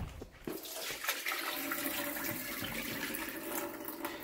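Soaking water pours rapidly off sprouting dal beans into a sink, a steady close splash of running water lasting several seconds with no talk.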